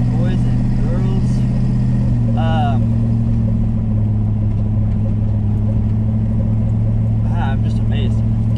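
An old Chevy pickup truck engine drones steadily and loudly while driving, with a constant low hum and gear whine. Someone speaks briefly over it.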